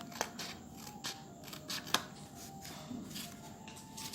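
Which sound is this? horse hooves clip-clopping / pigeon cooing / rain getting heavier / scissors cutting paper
scissors cutting paper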